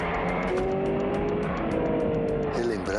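A Kia Stinger GT runs hard on a race track, its engine note rising steadily as it accelerates, with tire squeal and a loud, continuous roar throughout.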